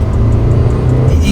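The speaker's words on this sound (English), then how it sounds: "I'm going to give it a little gas, just try out the acceleration." A 2013 Hyundai Santa Fe under hard acceleration, with a loud, steady engine drone and road rumble heard from inside the cabin, continuous for a brief moment.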